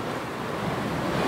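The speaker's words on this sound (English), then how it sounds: "These waves, man." Steady roar of ocean waves at sea aboard a sailboat, with rushing wind noise buffeting the microphone, continuous and fairly loud, no voices.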